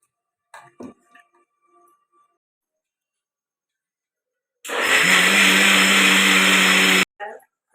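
A mixer grinder whirs loudly for a few seconds as it grinds soaked urad dal with fenugreek seeds, a steady high motor whine that starts abruptly and cuts off, preceded by a few faint clicks and handling noises.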